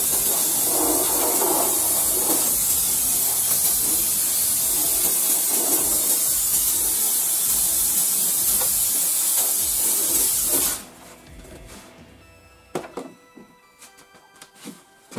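Steam cleaner blasting while a brush scrubs a car engine, a loud continuous hissing spray for about ten seconds that then cuts off abruptly, leaving quiet clicks and light rubbing sounds.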